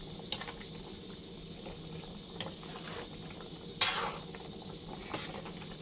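A pot of Shan-style bitter eggplant curry with pork leg simmers on the stove, bubbling quietly and steadily, with a few faint clinks and scrapes of a utensil against the pot.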